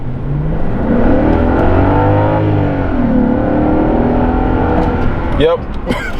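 A straight-piped V8 Genesis sedan accelerates hard in a loud, sustained pull, its engine note sweeping up and down before dropping off near the end with a few sharp noises.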